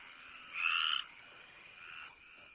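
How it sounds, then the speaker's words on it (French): Frogs croaking at night near still water, a dense chorus with one louder burst of calls standing out briefly before settling back into a steady background drone. "J'entends rien avec ces saloperies de grenouilles."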